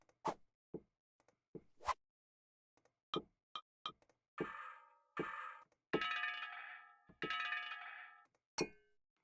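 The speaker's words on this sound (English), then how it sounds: "you see this is a drinking glass" A drinking glass is struck again and again, first with sharp, sparse ticks and knocks, then with several louder ringing clangs that sustain briefly and fade before the next hit.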